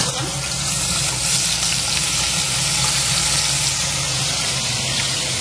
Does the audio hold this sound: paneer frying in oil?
yes